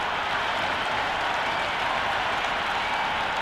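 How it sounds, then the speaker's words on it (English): Crowd noise in the Cricket 26 video game, a steady wall of distant roaring and cheering from a packed stadium before the first ball of a final, continuous and even with no pauses. "The crowd are making a heck of a lot of noise even before the first ball's been bowled."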